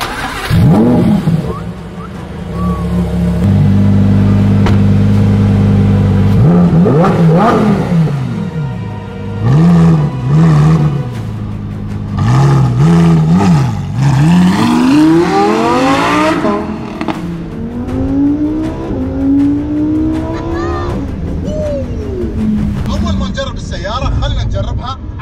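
Lamborghini Huracan with a single aftermarket exhaust revs loudly and repeatedly, rising and falling sweeps of engine tone close by, with a voice talking over parts of it.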